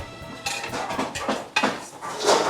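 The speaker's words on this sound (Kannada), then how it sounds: "ಈರುಳ್ಳಿ ಹಾಕೋತಾ ಇದ್ದೀನಿ." Onions tip into a pan for chana masala with a few close clattering knocks and scrapes of utensil against metal, set over a steady background hiss of cooking.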